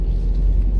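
Cars passing on a road outdoors in bright sun, a steady low engine and tyre rumble close by, continuous through the moment with no talk over it.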